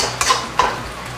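Kway teow noodles frying with egg in a pan, a close sizzle punctuated by two sharp clanks of a metal utensil scraping and tossing against the pan.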